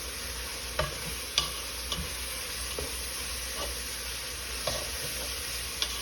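Ground beef for chili cooking in a pan, a steady sizzle and hiss with a few soft scraping stirs at irregular intervals, close and alone with no talk.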